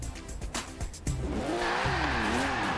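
Aston Martin DB4 Zagato engine in the video game Forza Horizon 4, a loud, close engine revving and climbing through the gears after a short burst of tire noise, a steady rising drone.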